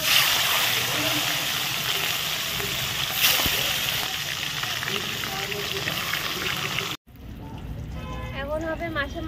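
Spinach leaves being washed in a kitchen, a steady rushing wash of running water and splashing that stops abruptly, followed by quieter handling and a voice talking.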